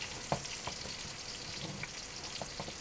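Ginger stir-frying in hot oil, a quiet close sizzle punctuated by occasional soft taps and scrapes of a spatula against the pan, with no talking.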